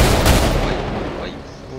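Gunfire in the video game GTA 5 during a roleplay shootout: a loud burst of shots up front that tails off into echoing decay, all packed into under two seconds.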